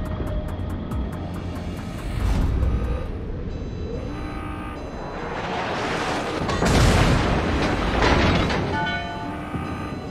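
Naval guns fire on an enemy warship in a battleship game: a dense, rumbling barrage of heavy booms with swelling blasts around the middle and later on, over a steady, churning background roar, with no voices.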